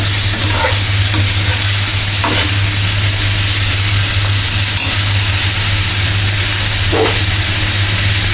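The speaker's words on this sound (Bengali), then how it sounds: "এখন পেঁয়াজ প্লাস মুরগির মাংস দুটোই একসাথে সিদ্ধ হয়ে যাবে ভাজা হয়ে যাবে" Onion and chicken frying together in a pan, giving a loud, constant sizzle with occasional stirring scrapes and a low steady hum beneath, close and with no talk.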